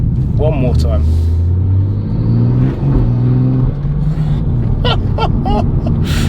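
BMW M140i engine fitted with prototype parts revving loudly and close by, with a deep droning rumble and rising revs, and someone talking over it throughout.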